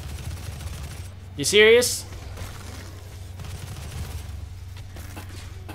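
A loud, brief blast from a weapon in DOOM (2016), a single punchy burst with a rising whine that dies away quickly, set against a steady low hum, with a short spoken question and faint game sounds around it.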